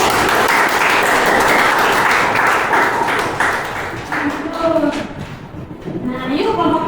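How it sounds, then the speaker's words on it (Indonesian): Classroom applause during a social studies microteaching lesson, dense clapping from a group of students that thins out midway as voices begin to talk over it. "beri tepuk tangan dulu"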